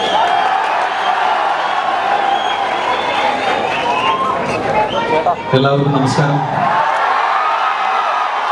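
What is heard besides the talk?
audience applauding and cheering at school festival ceremony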